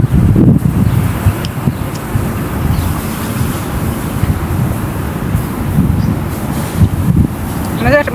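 Steady wind rumbles and buffets the microphone outdoors, a low blustery roar that swells and eases over several seconds.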